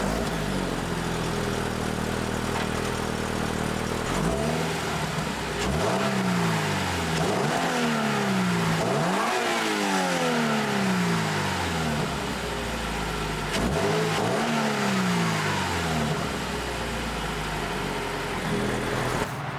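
Toyota GR86 on its stock exhaust, revved several times from idle. The engine note swells and falls in repeated climbs, loud and close, with a steady mechanical drone underneath and no talking.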